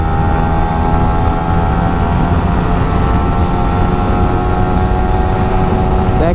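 A Yamaha R15 v3 motorcycle with a modified stock exhaust runs loud and close, its engine holding a strong, buzzing note throughout with a slight lift at the very end.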